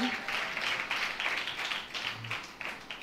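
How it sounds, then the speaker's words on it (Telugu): A church congregation claps hands together in praise of God, a dense, continuous patter of many hands at moderate distance, with a voice heard faintly beneath. "చప్పట్లు కొట్టి దేవుణ్ణి స్తుతిద్దామా?"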